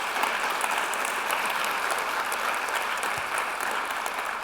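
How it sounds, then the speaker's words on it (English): An audience applauds at a television industry talk, steady dense clapping that holds without a break for several seconds, with no speech. "Applause"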